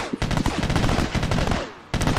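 Rapid machine-gun bursts in a video game aimed at an airfield target, loud close rattling volleys with a brief pause before the firing resumes.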